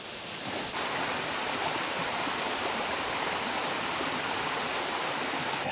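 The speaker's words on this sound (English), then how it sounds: "that one's a little bit more fits the bill" A small waterfall on a fell walk among the Lake District crags near Red Screes and Dove Crag, its steady rushing splash sounding close and continuous after a brief quieter start, with no voices.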